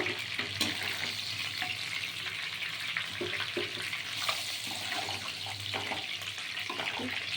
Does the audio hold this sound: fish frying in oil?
yes